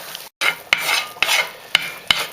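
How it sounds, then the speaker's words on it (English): A spoon scrapes and stirs dark roux for gumbo in a pan, a steady close sizzle and rasp broken by sharp rhythmic clicks about every half second as the utensil hits the pan, with no talking. "You want to keep stirring it continuously because you can see it'll stick on the bottom of your pan"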